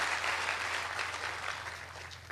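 A crowd at a motivational speech breaks into dense, sustained clapping, loud and even across the whole stretch with no voices over it.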